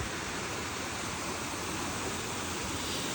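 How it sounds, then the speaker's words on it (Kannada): Water flows steadily at a resort pool, a constant even rushing wash with no breaks and no voices. "ಇಲ್ಲೇ ನೀರು ಹರಿತಾ ಇದೆ"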